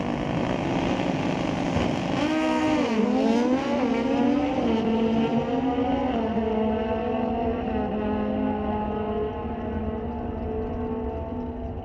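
A drag race car at Mission Raceway Park during an NHRA Northwest National Open Series race makes a long, loud engine roar down the strip, its pitch dipping and rising through gear changes before easing slightly as it runs away.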